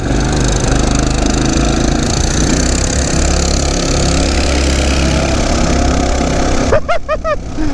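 A Coleman CT200U mini bike engine roars at full throttle, loud and steady, with a brief rise in tone near the end.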